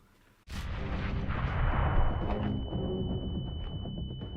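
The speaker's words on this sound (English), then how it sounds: "I'm throwing a grenade." A sudden loud grenade blast in Counter-Strike erupts and rolls into a long, rumbling decay with scattered crackles, with a faint high tone lingering.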